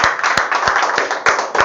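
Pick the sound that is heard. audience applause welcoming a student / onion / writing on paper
audience applause welcoming a student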